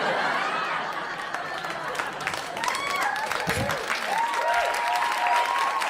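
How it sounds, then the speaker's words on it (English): Audience applause at a stand-up comedy show, sustained clapping from a sizeable crowd with scattered chuckles and chatter mixed in. "Yeah, clap now."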